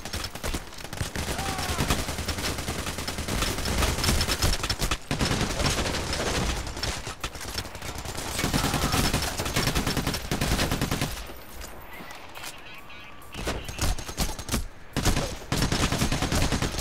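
Heavy gunfire in the video game Payday The Heist, with dense, continuous automatic bursts and a brief lull near the end before the shooting resumes. The sound is loud and close.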